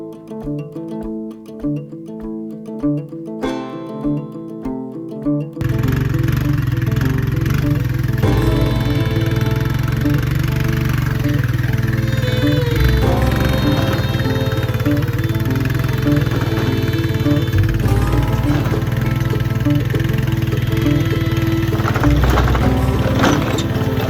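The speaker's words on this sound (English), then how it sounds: "so we're just moving the broilers over to the big tractor now" A big farm tractor engine runs loud and steady with a low droning rumble, starting after a few seconds of quieter mechanical sounds and continuing without a break.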